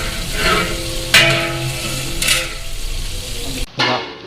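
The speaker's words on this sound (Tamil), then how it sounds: "இந்த ஆனியன் பொன்னிறமாக வதக்கணும்." Onions sizzling in hot oil with cinnamon, cloves and cardamom for a large 10 kg batch of chicken biryani, a continuous loud fry broken by sharp clanks of a ladle against the pot.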